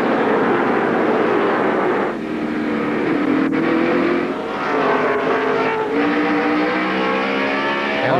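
NASCAR stock cars, among them Tony Stewart's number 20, roar past on track during a caution period, a loud sustained engine drone with pitch shifting as cars go by.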